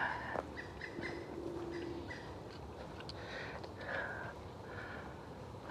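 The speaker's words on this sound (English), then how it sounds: "Not sure what that bird was." Faint bird calls come from a distance, a few short chirping notes scattered over steady outdoor background hiss.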